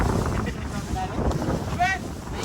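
Strong wind buffets the microphone in a steady low roar, with water splashing from deep waves and people talking faintly underneath.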